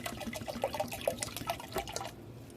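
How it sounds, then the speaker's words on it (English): Reverse-osmosis water is poured into a semi-hydro plant container, giving a close, bubbling trickle with gurgles and splashes that stops abruptly after about two seconds. "Now I'm going to top that off with a little bit more RO water."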